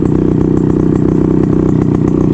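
A motorcycle engine idles steadily up close, a loud, even chugging rumble with rapid rhythmic pulses and no voices.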